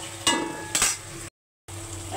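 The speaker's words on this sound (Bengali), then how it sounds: "এখন দারচিনি এলাচ তেজপাতা ছেড়ে দিলাম" Cinnamon, cardamom and bay leaves dropped into hot oil after green chilies for a meat curry, giving two short sizzling bursts close by that settle into a steady faint fry, then a brief gap before the frying resumes.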